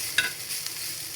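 Shrimp and coriander leaves frying in a pan, a soft steady sizzle with a brief stir or clink near the start, close and fairly quiet with no talking.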